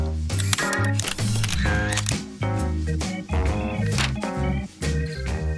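Camera shutter clicks repeat throughout a photo session, sounding over loud, continuous music.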